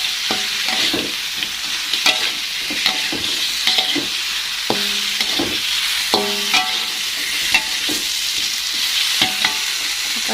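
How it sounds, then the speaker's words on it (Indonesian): Fish and tempeh fry in a pan for tongkol balado, a steady loud sizzle with repeated scraping and clanking strokes of a utensil stirring throughout, no voices. "langsung aja ini saya masukkan ikan sama tempenya teman-teman"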